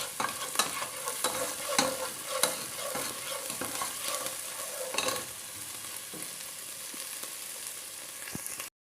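About a quarter cup of finely chopped garlic fries in a pan for vegetable pasta, a steady close sizzle broken by frequent spoon scrapes and clicks as it is stirred, with no voices.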